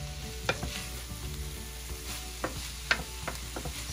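Yakisoba with ground chicken and red cabbage stir-fried in a pan, a soft steady sizzle beneath a few sharp clicks of the spatula against the pan, close and without speech.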